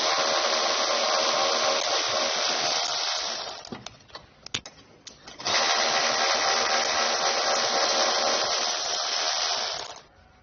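Power tool removing 13mm head bolts from a vehicle's front end during a base plate install, two loud sustained whirring runs close by, split by a short pause filled with clicks and clanks.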